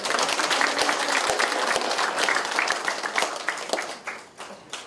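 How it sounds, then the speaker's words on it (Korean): An audience at a Seoul forum on support for atomic bomb victims claps warmly, a dense close-by burst of many hands that holds steady and then tapers off toward the end. "이분에게 큰 박수 보내주세요."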